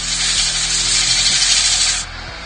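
A handful of wood shavings rubbed against a sawn sycamore platter spinning on a woodturning lathe makes a loud, breathy rubbing hiss over the lathe motor's steady hum, then the hiss cuts off shortly before the end.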